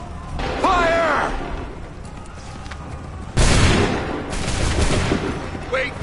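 A musket volley fired by a line of soldiers in Assassin's Creed III Remastered, two loud crackling bursts of massed gunfire with shouted voices between and after them.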